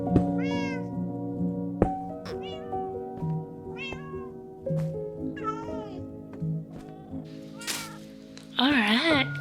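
Cats in the video game Minecraft meow several times in short rising-and-falling calls over a steady game background, with a person talking around them.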